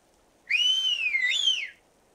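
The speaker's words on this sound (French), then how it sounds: "Vous ne voulez pas arrêter de siffler, c'est trop fort." A person whistles loudly in a single sustained, wavering tone that slides up and down for about a second and a quarter, alone against a quiet background.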